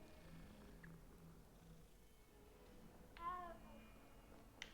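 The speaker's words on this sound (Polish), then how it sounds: "co to? O, kotek!" A cat in Hogwarts Legacy gives a soft, quiet purr and a brief meow-like call over faint game ambience, with no talk.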